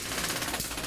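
A taser fired at a man in a courtroom, a dense crackling burst of rapid electrical snapping that runs loud and continuous through the whole moment.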